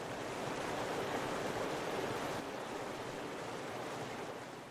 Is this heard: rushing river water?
yes